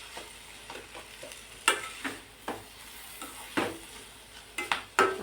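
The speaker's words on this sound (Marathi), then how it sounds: "आता बघा आपण ही भाजी छान अशी परतून घेतली" Ghol leafy greens sautéed in a pan, with a soft sizzle under repeated close scrapes and clacks of a spatula against the pan at an irregular rhythm; no talking.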